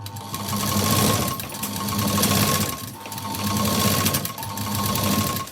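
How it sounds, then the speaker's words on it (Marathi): Close and loud, a sewing machine stitches a sleeve lining in repeated surging runs, its motor whirring up and easing off between bursts. "उलटी करून हे जे अस्तर आहे ना यावरती आपल्याला स्टिच करायचं आहे."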